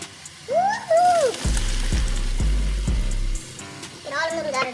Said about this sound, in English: So we're gonna pour our noodles in over here.